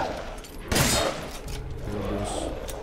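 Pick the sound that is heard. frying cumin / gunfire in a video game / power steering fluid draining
gunfire in a video game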